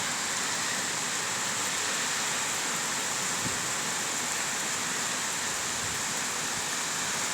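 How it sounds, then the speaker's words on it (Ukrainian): Heavy rain pours steadily as a summer downpour sets in, a dense, even wash of broadband hiss that holds at a constant level throughout with no talk over it. "мабуть, прийшов дощ."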